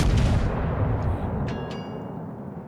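A warship's main guns fire a salvo in the naval video game World of Warships, a loud booming blast that decays into a rolling rumble, with a couple of faint metallic clicks near the end.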